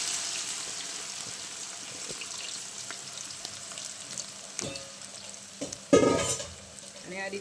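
Finely chopped tomatoes and potatoes hit a hot pan and sizzle steadily, with scattered stirring scrapes and a louder burst of frying near the end.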